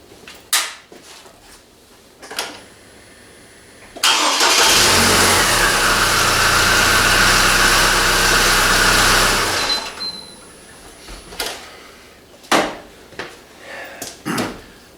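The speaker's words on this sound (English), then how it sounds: "I was finally able to get the truck to start." A Colorado truck engine, back after days of fault diagnosing, turns over and fires, running loud and steady for about six seconds before shutting off, with scattered clunks and handling noises before and after.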